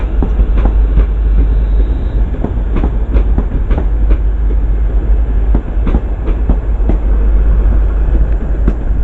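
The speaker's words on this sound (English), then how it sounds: "the train you saw depart out on platform 5" Two-coach train pulling out of platform 5 at Crewe on the West Coast Main Line, close and loud, with a heavy low rumble and a rhythmic clickety-clack of wheels over rail joints throughout.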